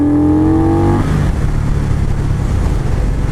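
A 2019 Indian Scout Bobber motorcycle engine revs loud and close, its pitch rising briefly before settling into a rough, throaty rumble.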